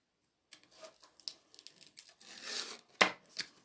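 Tape peeled and released from a paper stamp storage box, heard as a run of soft crinkling and tearing rustles, with a sharper rip near the end, close and fairly quiet with no talk.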